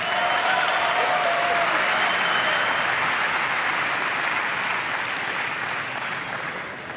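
Sustained applause from a badminton arena crowd greeting players Sindhu and Okuhara, a dense, loud wash of clapping that holds steady and slowly fades toward the end.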